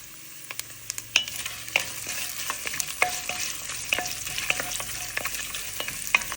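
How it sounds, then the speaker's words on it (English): Sliced coconut roasts in a pan with turmeric powder and salt, making a continuous frying crackle broken by repeated sharp scrapes and clinks of a spatula stirring, close and clear. "The sliced coconut are roasted"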